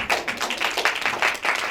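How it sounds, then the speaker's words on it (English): Brief, fairly faint audience applause at a talent development program event, a loose patter of hands clapping with uneven bursts and no talking over it. "Please applause for Coach Lira"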